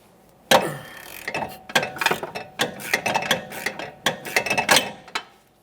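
Ratchet clicking on the 17mm sway bar link nut of a 2014-2019 Toyota Corolla, quick rapid pawl clicks in several short back-and-forth bursts, close up with no voices.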